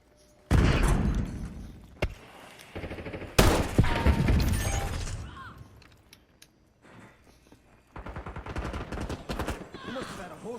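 Bursts of loud gunfire in the Black Ops 6 shooter, including a new hand-cannon pistol, come as several sharp heavy blasts and rattling volleys with game mechanisms and footsteps between them, and voices are heard in places.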